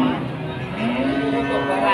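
A single long, low cow moo rises and holds steadily, close by, over faint background noise.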